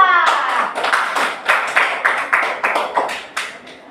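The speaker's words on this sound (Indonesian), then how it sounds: "Ya, bagus, tepuk tangan dulu untuk Elisa." A small classroom group claps together, a quick uneven patter of hand claps lasting several seconds, close and fairly loud.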